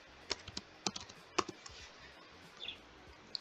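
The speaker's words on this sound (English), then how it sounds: "now I'm going to type T on my keyboard" A computer keyboard being typed on, a few sparse, crisp key clicks and taps at close range against a quiet background.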